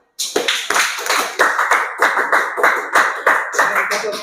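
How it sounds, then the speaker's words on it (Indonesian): Students in a ninth-grade classroom clap in unison, a close, loud series of sharp rhythmic claps following a regular beat after a brief silence. "Tepuk tangan."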